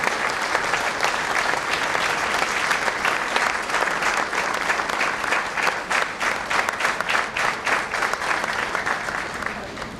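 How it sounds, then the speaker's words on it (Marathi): Loud, sustained applause from a large audience at a book launch ceremony, dense clapping that continues steadily throughout with no pause. "जोरदार टाळ्या होऊन जाऊ द्या."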